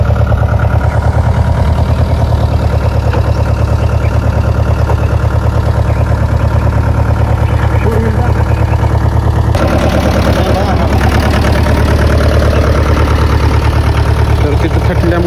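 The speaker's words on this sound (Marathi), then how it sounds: "लोड जास्त झाल्यामुळे थोडा ट्रॅक्टर खाली दगडाला थटला आहे" A tractor engine drones loudly and steadily under heavy load while hauling on farmland, a close, low pulsing rumble that deepens and roughens partway through as it strains against a stone.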